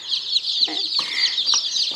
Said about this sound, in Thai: อันนี้ไม่ใช่ไก่บ้านธรรมดานะคะ เป็นไก่ชนค่ะ ไก่ชนพม่านะคะ